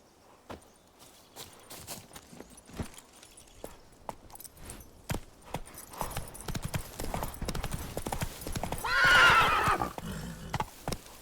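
In The Witcher 3, the horse Roach clip-clops along at a quickening pace that builds toward a gallop. A neigh is heard near the end and the hoofbeats are close, with no talk over them.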